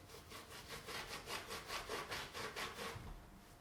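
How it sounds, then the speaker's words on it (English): Acetone-soaked cloth wiped back and forth over a tyre to strip oil and grease, a steady rhythmic rubbing of about a dozen close strokes, moderately loud with no talking. "we need to clean the tyre with acetone, get all the oil and grease"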